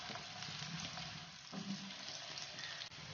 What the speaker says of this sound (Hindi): एक छोटा कटा हुआ प्याज मैं ऐड करूँगी, इसको ब्राउन करूँगी